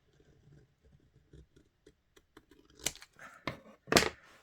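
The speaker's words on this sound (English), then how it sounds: "use my scissors, I think" Scissors cutting paper for a papercraft seed packet, a run of quiet snips and ticks that builds to two louder, crisp cutting crunches near the end, close and without talk.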